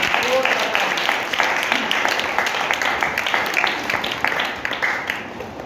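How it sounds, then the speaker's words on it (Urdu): Loud, continuous applause fills a church service, with dense clapping from a congregation and some crowd voices mixed in, holding steady for several seconds. "اپنے ہاتھوں کو لہرائیے اور زوردار تالیاں یسوع مسیح کے جلال کے لیے بجائیں"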